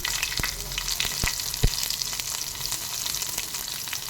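Onions and curry leaves sizzle steadily in a hot pan for a bitter gourd curry, a dense bright frying hiss broken by a few sharp clicks and scrapes of stirring, close and alone.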